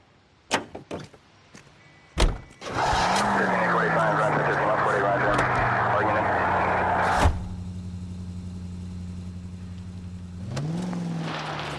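A car in L.A. Noire, with door thuds and slams, an engine starting and revving, then a steady engine drone with a brief rise near the end, with some speech over it.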